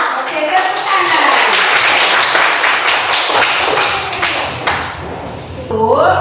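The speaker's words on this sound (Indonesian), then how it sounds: "Oke, tepuk tangan." A class of pupils claps hands together in a loud, uneven burst with thuds and taps, and a voice speaks briefly as it ends.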